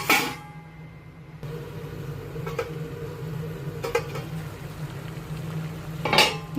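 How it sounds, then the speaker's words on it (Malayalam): A lid goes onto a pot of sardine curry with a few metallic clanks and rattles against a low steady hum, with a sharper clatter near the end. "ഇനി ഇതൊന്ന് അടച്ചു വയ്ക്കാം"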